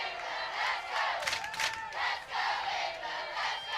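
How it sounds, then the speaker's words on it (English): Crowd cheering and yelling at a women's Lacrosse World Cup match between England and Canada, a sustained roar that swells in waves, loud and continuous with no talk. "the crowd are trying to buoy the England defence"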